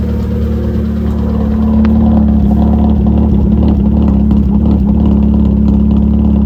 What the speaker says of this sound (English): When I started, it's got a pretty bad misfire.